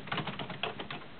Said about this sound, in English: I'll open WordPad and I can type